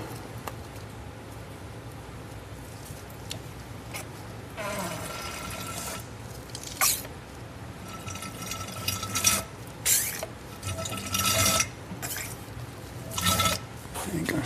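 Gear oil is pumped from a quart bottle through tubing into the differential of a BMW E36 M3, heard as faint liquid trickles, gurgles and intermittent ratcheting pump strokes, growing busier in the second half.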